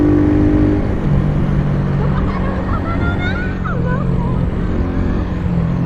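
A car rumbles past close by under steady motorcycle riding noise and wind, with a voice speaking briefly over it.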